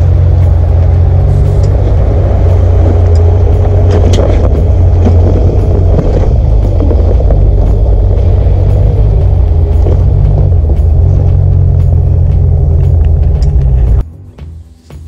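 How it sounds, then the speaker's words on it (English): A Land Rover Discovery converted to an LSX V8 with a six-speed automatic crawls down a steep slope in first gear low range with front and rear lockers engaged. Its loud, steady, deep engine rumble continues without a break until it drops away abruptly near the end. "we selected first gear low range, front and rear lockers in, and just walked it all the way through with no foot on the brake"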